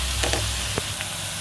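Small fish curry ingredients frying in a pan, a steady close sizzle with a few soft stirring scrapes and no talking.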